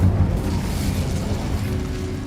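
The Incendio fire spell in Hogwarts Legacy gives a loud, continuous, roaring low rumble with a whooshing burst that holds steady throughout.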